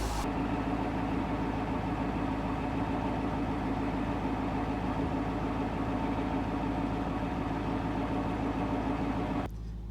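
A Cadillac CTS-V engine idles steadily while warming up, a close, constant low rumble with a hum that holds even for nearly the whole stretch, then drops away abruptly at the very end.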